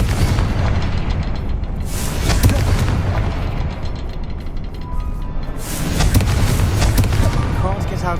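A Confringo fire spell bursts in the Hogwarts Legacy video game, loud booming blasts with a heavy rumbling crackle, strongest near the start and again toward the end, under continuous game action.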